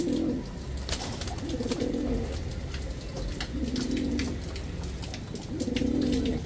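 Fancy-breed pigeons offered for sale coo in deep, rolling phrases that repeat every couple of seconds, fairly close, over light background noise and scattered clicks.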